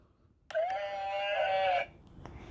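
A single electronic sheep bleat from a toy farm animal, a clear wavering tone lasting just over a second, loud and close with brief clicks before and after.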